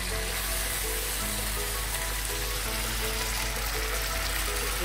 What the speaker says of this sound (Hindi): पानी में 1 कप डालेंगे।